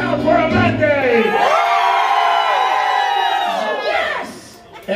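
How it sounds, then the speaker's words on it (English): A packed cruise ship audience, at a Margaritaville at Sea show, yells and cheers loudly in a sustained roar of mixed voices, fading slightly near the end. "I want you to yell so loud, security hears you and they think there's something wrong."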